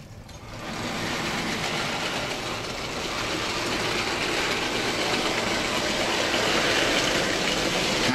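An OO gauge Stanier 2-6-4T kit-built model locomotive runs on three-rail track with a steady, continuous whirring rumble that swells slightly louder over several seconds, with no talking.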